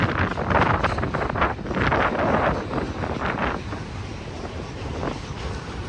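Strong wind buffets an outdoor microphone beside a railroad hill where trains meet, a loud, continuous roaring rumble with surging gusts throughout and no speech.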